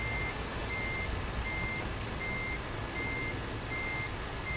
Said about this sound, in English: I got backup beepers, they can hear me.